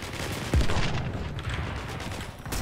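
Turret fire from the fast PvP shooter Leap, a dense rumbling burst of gunfire with a sharp onset, then a sustained booming wash that keeps going to the end.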